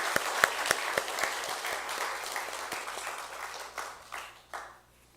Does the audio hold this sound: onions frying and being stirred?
no